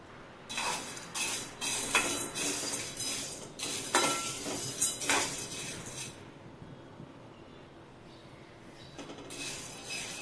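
Chana and urad dal dry-roasting in a pan over low heat, with repeated scraping and clinking of a spoon against metal in bursts, fairly close and clear, then quieter toward the end.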